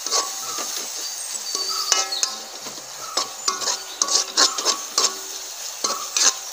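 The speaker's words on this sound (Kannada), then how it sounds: "ಚೆನ್ನಾಗಿ ಹುರ್ಕೊಬೇಕು." Tomato masala for a village-style crab curry is stir-fried in a pan, with a spatula rubbing and scraping against the metal in uneven bursts and soft sizzling between strokes. No one speaks.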